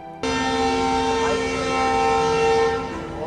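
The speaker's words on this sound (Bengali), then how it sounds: "আম্বালা ক্যান্টনমেন্ট স্টেশনের তিন নম্বর প্ল্যাটফর্মে হাজির হলো মুম্বাই থেকে অমৃতসর জংশনগামী বারো নশো তিন গোল্ডেন টেম্পল মেল" The 12903 Golden Temple Mail passenger train rumbles steadily at platform three of Ambala Cantonment station, loud and close, with a sustained horn-like tonal drone over the rolling noise.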